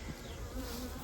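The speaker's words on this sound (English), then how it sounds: "Another great day with the bees." Dense, steady hum of honeybees crowding the outside of a hot hive in summer, a close continuous buzz with individual insects flitting past the microphone, no voices.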